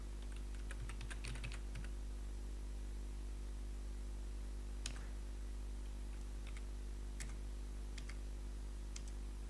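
Someone types on a computer keyboard while entering data into a program, with a quick flurry of faint key clicks at first and then sparse, isolated taps over a steady low electrical hum.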